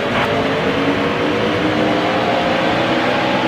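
NASCAR race cars in the video game NASCAR Heat Evolution roar together at the start of a race, a dense, loud and steady engine drone with no letup and no talking.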